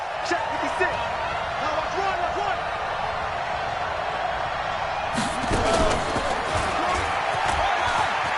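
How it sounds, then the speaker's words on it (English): A stadium crowd roars in a PS4 NFL football game before the New Orleans Saints meet the Tennessee Titans. The steady broad cheer rises in a louder swell partway through, with a commentator talking over it. "This crowd is ready as their guys get set to match up between the New Orleans Saints and the Tennessee Titans."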